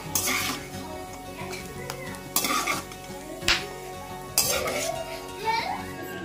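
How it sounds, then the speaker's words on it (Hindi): Almonds and cashews roasting in a hot pan crackle and pop, with stirring scrapes and clinks of a utensil against the pan; a few sharper pops stand out over a steady sizzle, close and alone without talk. "बादाम जो है ना सब चटक रहे हैं"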